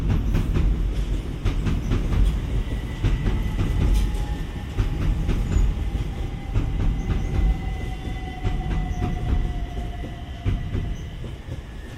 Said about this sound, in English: like trains going past